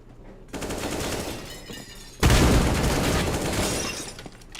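A decoy grenade in CS:GO rattles off fake gunfire, sustained automatic bursts that jump louder midway and keep firing rapidly, close and dense.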